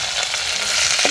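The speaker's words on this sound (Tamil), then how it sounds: "அதுக்கு பிறகு வெங்காயத்தை போடுவோம்" Mustard seeds, fennel, curry leaves and onion frying in hot oil, a dense, loud, continuous sizzle over a short moment, with no talk.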